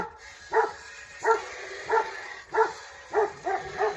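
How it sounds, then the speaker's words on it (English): A dog on a farm barks repeatedly at a coyote in the distance, about seven spaced woofs in a steady rhythm against a quiet background. "Don't mind Digger, he's barking at the little coyote that comes and runs the fence in the evening."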